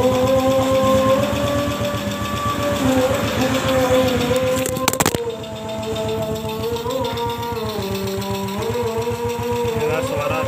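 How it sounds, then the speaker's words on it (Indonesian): Yamaha Vega ZR motorcycle engine idling after new piston rings were fitted, a steady close rhythmic putter with a brief sharp clatter midway and a slight change in pitch afterward. "coba kita hidupkan terlebih dahulu untuk memastikan suara dari klotok di daerah mesin kanan ataupun kirinya"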